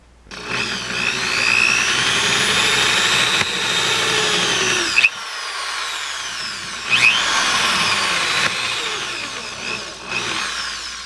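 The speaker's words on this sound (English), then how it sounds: "drill any of these plastic things with a step drill and a low speed" A power drill whines continuously as a step bit cuts plastic at low speed, the pitch shifting slightly, with a brief pause and a couple of clicks partway through.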